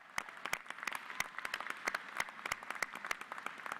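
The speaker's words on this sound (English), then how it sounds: "Let's give these students a round of applause." Steady applause from a crowd at a graduation ceremony, many hands clapping at once at a distance, fairly faint and even throughout.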